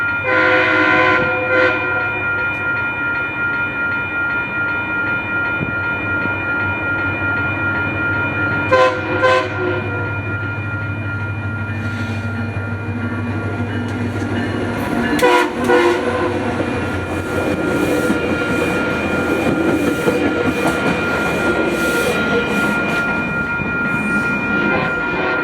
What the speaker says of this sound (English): this northbound FrontRunner, which ended up having MP36 free leading, giving quite the horn show